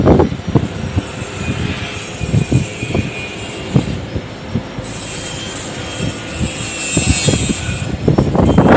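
A PO Garuda Mas Megatop intercity bus on its morning run from the east passes close by, its loud engine and road roar building and fading as other traffic rumbles along the road.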